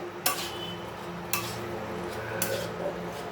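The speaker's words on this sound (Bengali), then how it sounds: "মশলা কষা হয়ে গেলে মাংস আলু দিয়ে ব্যাস রান্না কমপ্লিট একটু নাড়িয়ে দেবো এরকম করে" Chicken curry masala with meat and potatoes being stirred in a pot, with three distinct scraping clinks of a spoon against the pot over a low steady kitchen background.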